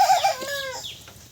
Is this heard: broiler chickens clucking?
yes